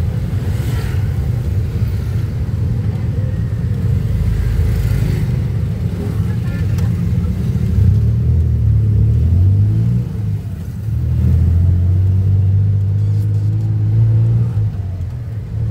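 Heavy, steady rumble of private car traffic heard from inside a jeepney riding along Rizal Avenue toward Irawan, with engines droning close by and occasional revving swells.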